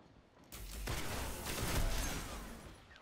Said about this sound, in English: If my fusion rifle hadn't stuttered, I probably would have won that fight.